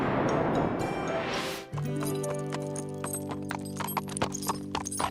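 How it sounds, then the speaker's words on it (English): A cartoon horse, the princess's mount, sets off on a trail ride with a rapid run of hooves that settles into a steady clip-clop, punctuated by bright clinks, over a sustained musical backing. "Are you sure it's okay for you to ride the princess's horse?"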